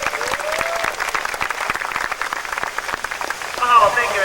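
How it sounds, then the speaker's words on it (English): Audience applause for the Waimea Falls Park Cliff Diving Champions at Waimea Valley, Oahu, Hawaii: steady, dense clapping from an outdoor crowd throughout, with a few whistles near the end. "join me, ladies and gentlemen, with a loud round of applause"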